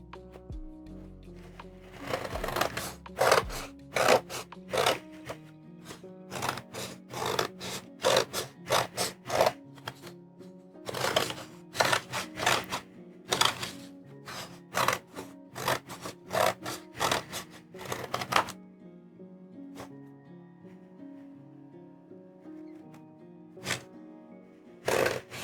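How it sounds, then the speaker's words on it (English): Repeated short crisp snips and rasping cuts through Gelli plate print paper, following oval lines in a close, quiet crafting setting, coming in irregular bursts with pauses and fading out near the end. "So I cut along the oval lines."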